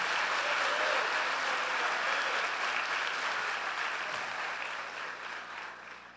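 Congregation applauding during an evening church celebration service, a dense, steady wash of applause from a large crowd that slowly fades, with no talk over it.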